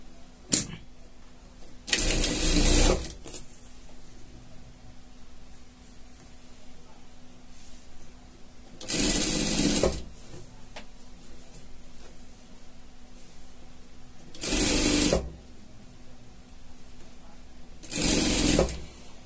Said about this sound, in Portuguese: a gente já vai passar uma costura em tudo